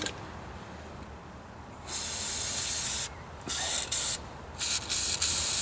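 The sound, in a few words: aerosol spray onto vehicle underside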